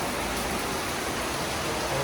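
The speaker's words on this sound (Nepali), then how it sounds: "असार साउनको जस्तो पानी परेको छ।" Heavy rain with hail pouring down during a storm, a continuous even hiss of falling water and ice at moderate distance, with no voices.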